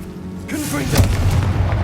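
A Confringo fire spell detonates in the video game Hogwarts Legacy, a booming burst that swells after a brief lead-in and holds as a dense, rumbling roar with crackling tail, loud and close, with a voice over it.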